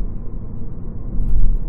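A 2010 BMW E92 335i xDrive drives along with a low, steady engine and road rumble heard from inside the cabin, swelling slightly near the end.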